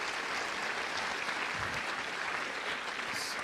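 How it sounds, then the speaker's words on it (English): Dense, steady applause from a lecture audience, a continuous wash of many hands clapping at even loudness from start to finish, heard at a moderate distance without any talking over it. "Give them a big round of applause."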